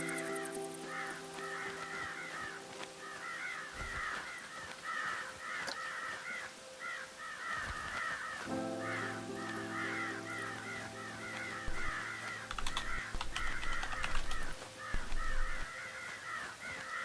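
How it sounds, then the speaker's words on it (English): Crows cawing in Planet Coaster's spooky-themed scenery, repeated harsh caws in steady bursts throughout, layered over a sustained eerie musical drone with occasional low thumps. "And another crow."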